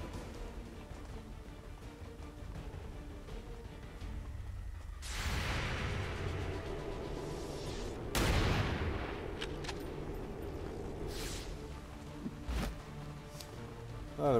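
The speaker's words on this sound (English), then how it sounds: "Nice to have gotten that explosion" Explosions and gunfire sound in the video game XCOM 2: a steady wash of ambient combat noise broken by two big booming blasts, then scattered sharp shots and impacts, loud and close.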